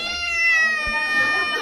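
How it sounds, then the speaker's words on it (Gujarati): A cat meows loudly and close, one drawn-out harmonic cry held across the clip, with a brief low thump near the middle and faint household sounds behind it. "એ બિલ્લી."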